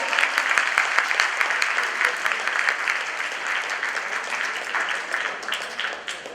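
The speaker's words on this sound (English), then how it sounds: "Give me a golf clap." A seated audience at a mentalist's show claps lightly in a golf clap, producing a steady patter of many hands that fades a little over several seconds.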